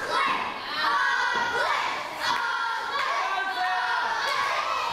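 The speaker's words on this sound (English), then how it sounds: "This crowd chanting ugly at Sara" Crowd at a W3L wrestling showdown chanting in unison, a loud, dense mass of voices with rhythmic swells, the chant carrying steadily across the whole stretch.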